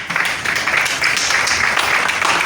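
Applause from participants approving items by acclamation at a meeting, a dense steady wash of clapping filling the whole stretch, loud and close, with no voices over it.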